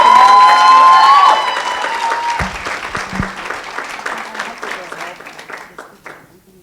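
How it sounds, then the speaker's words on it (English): An audience breaks into applause that is loud at first, then thins into scattered claps and fades out over several seconds. A voice can be heard over the opening moments. "Lady Norena, a round of applause,"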